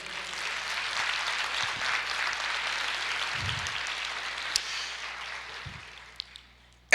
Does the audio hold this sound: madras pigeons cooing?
no